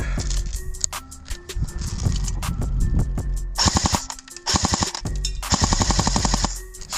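An airsoft gun firing rounds into a pile of wood, heard as sharp single shots followed by rapid bursts of closely spaced cracks, loud and close with brief pauses between strings.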